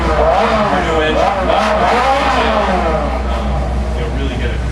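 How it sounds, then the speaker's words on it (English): Car engine in Forza Motorsport revving loudly and continuously, rising and falling in pitch, with a steady low drone underneath. "Or you can start the engine again."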